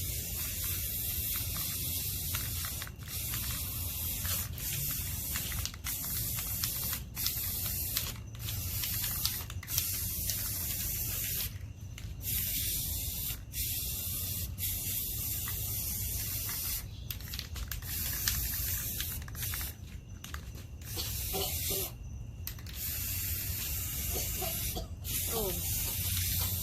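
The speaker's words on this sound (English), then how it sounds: "I'm just going to spray paint." Continuous hiss of an aerosol spray can as a board is painted white outdoors, with steady spraying broken by several short pauses, close and loud throughout.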